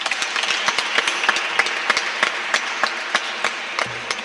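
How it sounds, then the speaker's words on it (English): Scattered audience clapping at a community school anniversary session, a thin spread of separate hand claps rather than a full roar, moderately close and steady for the whole stretch. "I want to give Doc a round of applause"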